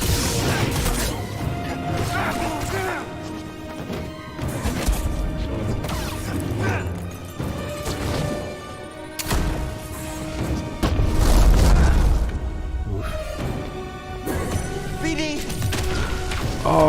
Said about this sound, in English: These flashbangs.